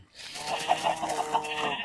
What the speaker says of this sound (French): Donc je savais des poulets sauvages que j'ai ramenés ici.